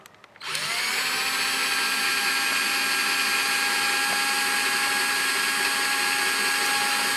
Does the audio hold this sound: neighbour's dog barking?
no